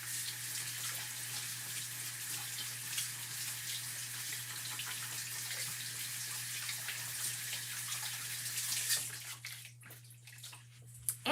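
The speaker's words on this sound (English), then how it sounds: "I'm gonna go rinse this brush off" Tap water runs steadily while a paintbrush is rinsed, a close, even broadband rush from the faucet that cuts off near the end, leaving a few faint clinks and drips.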